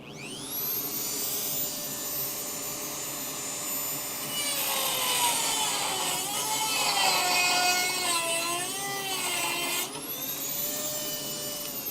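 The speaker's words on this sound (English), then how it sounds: "let's get the Dremel." A Dremel rotary tool grinds on a car floor during repairs, a loud, close, high whine that rises and falls in pitch as the load changes, dropping briefly near ten seconds before spinning back up.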